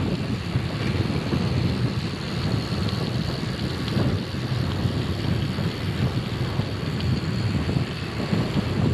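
Strong wind gusting across the microphone during a gravel bike ride, a steady loud roar that never lets up, with no voices.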